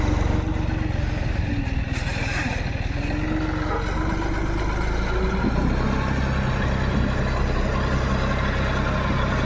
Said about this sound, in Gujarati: આ જો લોડરે ભરાય છે